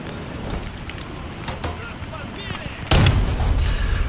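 A tank's main gun fires in War Thunder, one sudden loud blast cutting through the battle din, preceded by scattered distant gunfire and engine rumble, with a voice speaking over it.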